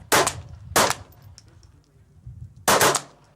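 Three sharp, loud rifle gunshots crack out at a shooting range, two close together and a third after a pause, with quiet background between them.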